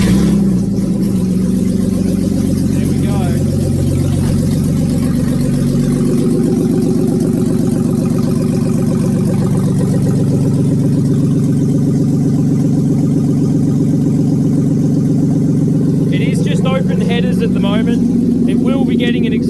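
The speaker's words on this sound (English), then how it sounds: "Well, there you go, it runs." A budget BMW E36 drift car engine fires up for its first start and keeps running loud and close, with a steady rumble and some revving near the end.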